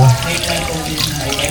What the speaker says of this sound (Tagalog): At lalagyan ko na rin po ito ng tubig.